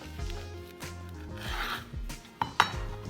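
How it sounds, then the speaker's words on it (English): A knife slices through a sandwich with lettuce on a board, giving a short rasping cut followed by two sharp clicks as the blade meets the surface, close and clear with no talking. "and cut it."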